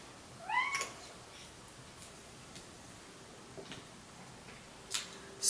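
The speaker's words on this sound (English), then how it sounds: "my cat just walked in" Near the start a cat gives a short meow indoors, followed by quiet room tone with faint soft ticks and another brief sound at the end.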